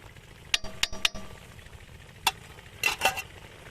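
A spoon stirring chicken tikka boti masala spice into chicken in a pan, with a few sharp clinks of metal against the pan early on, then more scraping stirs later, over a faint steady sizzle.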